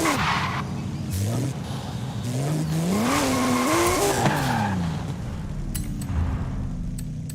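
A Volkswagen Golf R races in Forza Horizon 5, its engine rising and falling through gear changes as tyres squeal and skid through corners, loud and close.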